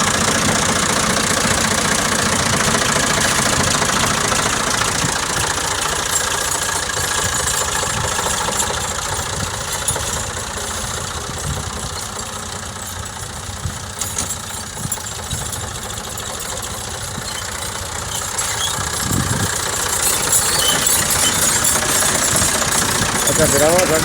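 A genuine 1975 England-built Ford 4000 tractor engine running at idle with a steady, knocking diesel chug throughout, joined by voices talking in the background.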